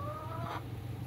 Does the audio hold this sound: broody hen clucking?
yes